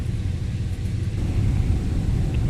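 Twin radial engines of a 1939 Grumman Goose amphibian in a flight simulator throttle back, a steady low droning rumble continuing unbroken without voices.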